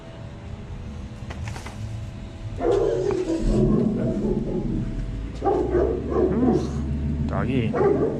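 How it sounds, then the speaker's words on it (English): Dog barking at a Halloween display, a burst of loud close yaps and barks over steady background noise, with voices talking nearby. "doggy."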